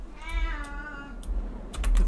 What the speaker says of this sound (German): Quakt die Katze wieder.